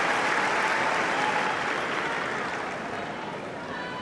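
A Wimbledon final crowd applauds during a women's singles match, broad sustained clapping filling the stadium and slowly fading, with a commentator's voice faintly underneath.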